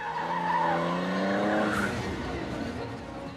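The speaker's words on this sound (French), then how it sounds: "Les pilotes dérapent énormément, appuyant très fort sur l'accélérateur pour sortir du virage." Race cars skidding out of a corner, with tires squealing in a loud, sustained sweeping screech over a heavy engine roar that fades slightly toward the end.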